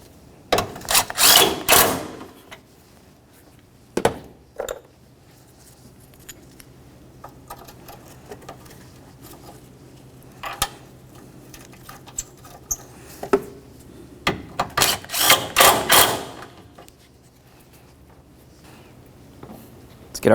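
Tools working on the radiator mounting bolts of a 2003-2007 Honda Accord during an AC condenser replacement: scattered metallic clicks and taps, with a few louder bursts of rattling near the start and again later.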